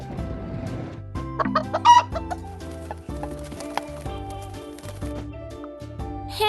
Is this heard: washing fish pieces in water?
no